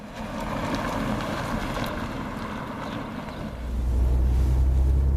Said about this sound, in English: This has got a lot of power here with a supercharged engine. You can probably feel that, hear that.